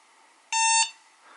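A Hobbymate Speed H6 hobby battery charger gives a single short electronic beep lasting about a third of a second when a button is held down, clear and alone in a quiet room.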